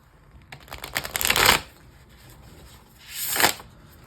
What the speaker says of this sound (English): So not the easiest shuffle in the world.